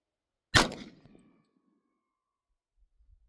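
A single handgun shot strikes a steel target, a sharp loud metallic clang followed by a ringing decay that fades within about a second, then near silence.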